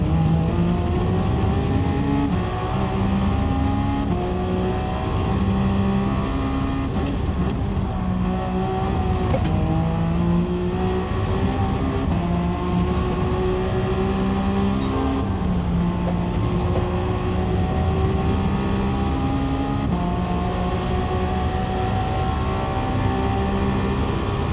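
A race car laps Le Mans in Gran Turismo 7, its engine roaring loud and constant with rising and falling revs through repeated gear shifts for the whole stretch.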